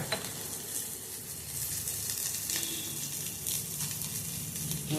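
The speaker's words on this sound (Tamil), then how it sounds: "இதோட ஒரு 3 வரமிளகாவை ஃப்ரை பண்ணிக்கலாம்" Dried red chillies frying in oil alongside ginger and garlic for a ridge gourd chutney, a continuous bright sizzle close up with occasional soft stirring scrapes.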